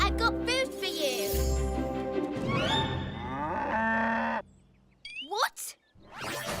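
A cartoon cow mooing loudly and close, a few drawn-out moos over music and sound effects, followed by a short pause and brief chimes.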